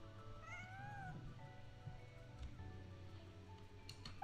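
A cat in the Genshin Impact game gives a few drawn-out, rising meows near the start, over a bed of soft in-game ambience and music that carries on after the cries fade.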